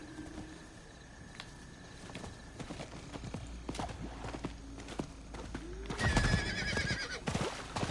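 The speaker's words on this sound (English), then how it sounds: "at least the horse is not like Roach from The Witcher 3" Horse hooves clip-clop steadily while a horse whinnies in the video game Diablo IV, with birds cooing faintly in the background.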